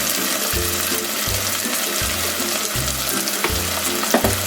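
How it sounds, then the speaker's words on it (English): Goat mutton curry frying in a pan as coconut powder goes in, with a steady sizzle and regular low stirring scrapes repeating about every second, close and continuous without speech. "Now I am going to add coconut powder in it."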